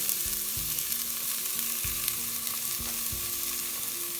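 Onions go into hot oil in a pan on high heat, where green chilies are already cooking. A dense, constant sizzle and crackle runs close and loud with no voices, broken by a few soft knocks of the spoon.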